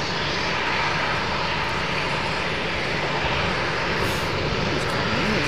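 A large aircraft, such as a 747, comes in to land at Amsterdam Schiphol, its engines a loud, steady, broad roar that holds constant from start to end.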